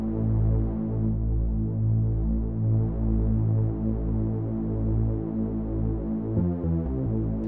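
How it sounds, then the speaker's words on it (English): Distorted, growling synth bass in a techno production, playing a steady low drone with pulsing harmonics and a brief stuttering change near the end, loud and alone. "Now we have this really weird groveling bass sound"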